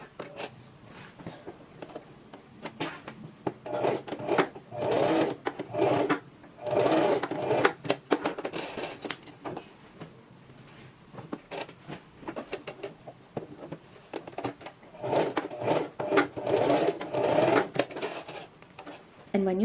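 A sewing machine stitches in several bursts, running along the outside of the original pocket stitching on a strapless drop-waist dress, with fast rattling needle action starting and stopping between pauses.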